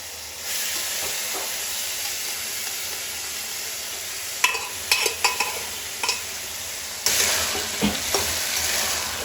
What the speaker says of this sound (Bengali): মটরটা আমি দিয়ে কষিয়ে নেবো খানিকটা।